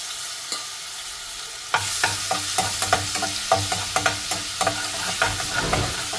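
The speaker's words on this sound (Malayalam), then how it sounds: "ഒരു പാനിൽ കുറച്ച് ഓയിൽ ഒഴിച്ച് അത് നല്ലോണം ചൂടായി വന്നിട്ടുണ്ട്." Ginger and garlic drop into hot oil in a pan and set off a sudden loud sizzle, then keep frying with repeated sharp stirring clinks and scrapes, close and with no talk.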